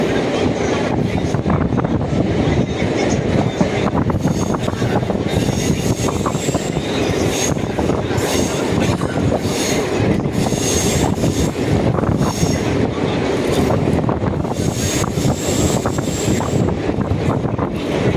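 A train rolling toward Srirangam railway station gives a loud, steady rumble of wheels on track with faint squeals and wind buffeting throughout, close and continuous, with no voices.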